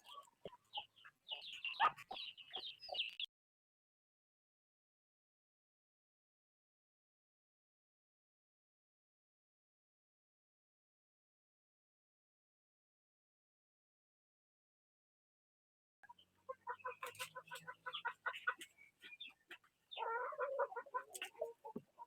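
Hens cluck in short bursts at the start, then a long silence, followed by more clucking and scratchy pecking sounds near the end.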